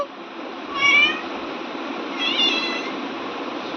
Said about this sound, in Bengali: বাড়ি এসছি আর এই যে ম্যাও ম্যাও শুরু করে দিয়েছে